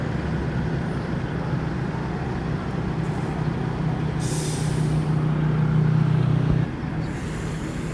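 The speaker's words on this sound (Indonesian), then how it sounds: "Dua unit bus dari Sumatera, satu Al Ijra dengan sleeper pakai bodi Laksana SR3 Tronton" Intercity buses arriving from Sumatra, including an Al Ijra sleeper coach with a Laksana SR3 Tronton body on a Volvo chassis, rumble steadily with a low diesel drone, a hiss of air brakes near the middle, and continuous roadway noise throughout.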